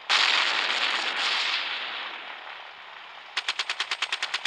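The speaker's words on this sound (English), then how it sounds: "Eat minigun, bastards!" Minigun fire in the video game Gunship Battle: a long hissing roar fades out, then a fast, evenly spaced burst of about a dozen crisp rounds closes the clip.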